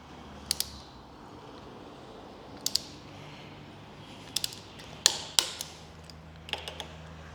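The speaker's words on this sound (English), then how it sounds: "grab the torque wrench again" A torque wrench tightens bolts on a Ducati Desert X motorcycle, giving close ratcheting clicks in short bursts separated by pauses over a low steady background.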